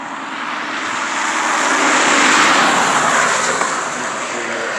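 A truck passes on a road near a rural spot with a gray mule, its broad rumbling roar building to a peak at mid-pass and easing slightly as it goes by, loud and steady throughout with no talking.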